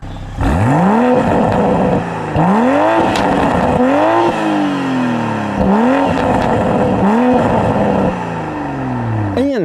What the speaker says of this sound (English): one important change you do get in sport mode is to the exhaust note